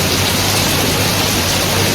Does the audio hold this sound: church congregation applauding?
no